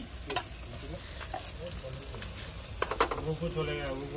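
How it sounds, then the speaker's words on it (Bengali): Onions sliced straight into an outdoor pan fry and sizzle at a birthday cookout, a steady crackling hiss with scattered clinks and stirring under background voices and chatter. "পেঁয়াজ ডিরেক্ট কেটেই এখানেই ভাজা হচ্ছে"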